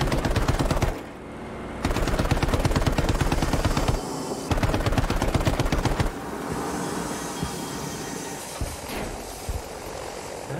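Anti-aircraft gun in the Battlefield V video game firing rapid, loud automatic bursts, broken by short pauses and then settling into a steadier rattling stream.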